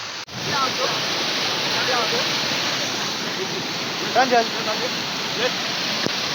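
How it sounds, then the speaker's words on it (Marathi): Continuous roar of a flooded river rushing, loud and broad, with people talking faintly underneath. "नदीला पूर आलाय त्यामुळे आपण आता इथे थांबलो"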